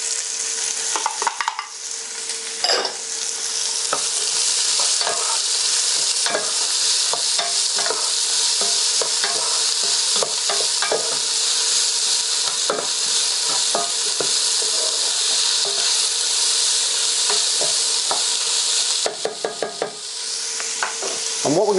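Onions fry in a pan of hot oil for a salmon fish curry, giving a loud continuous sizzle with frequent crackles and occasional stirring scrapes, close up and without speech.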